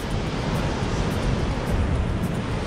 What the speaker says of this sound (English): these waves look so nice